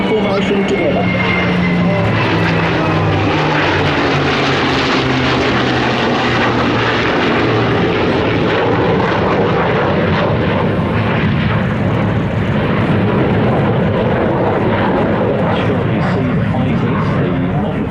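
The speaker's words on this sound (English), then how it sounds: "We have the Mustang, the Spitfire, the Super Hornet, and the F35 in formation together." A Mustang, a Spitfire, an F/A-18 Super Hornet and an F-35 fly together in formation at the Avalon International airshow, giving a loud, steady engine roar with a droning propeller tone that holds throughout the clip.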